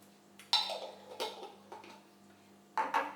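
Coconut sugar spooned into a bowl while making vegan peanut butter chocolate cups: a few light clinks and scrapes of a spoon against the bowl, close and fairly quiet, with pauses between.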